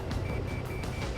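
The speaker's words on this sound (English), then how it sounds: "Stall warning." A repeating electronic stall-warning beep sounds from the cockpit in the Ace Combat 7 flight game, several short even tones under a dense roar of engine and wind noise.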